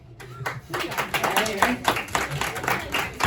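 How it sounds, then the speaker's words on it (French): Patrons applauding in the Alma Bar in Lyon: a quick, moderate round of clapping from a small crowd, rising and falling in bursts, heard under and between a performer's talk in a roomy space. "Je savais pas que ça méritait des applaudissements"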